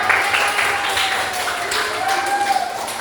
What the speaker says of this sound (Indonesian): kasih tepuk tangan buat kelompok.